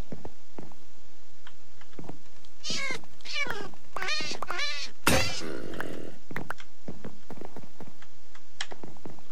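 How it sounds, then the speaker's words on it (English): A Minecraft cat meows repeatedly in a modded game, a run of clear, close, drawn-out meows in quick succession, followed by a sharp thunk and a few fainter calls. "I'm going to go ahead and heal the cat."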